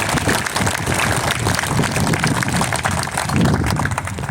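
Sustained applause from an audience at an Alaska centennial celebration honoring the Wien family, a dense, even wash of many hands clapping, loud and continuous throughout with no speech.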